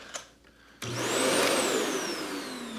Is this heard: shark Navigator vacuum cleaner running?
yes